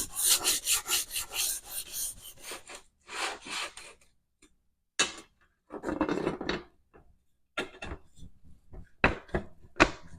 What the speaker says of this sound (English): This deburring tool pulls off some very fine burrs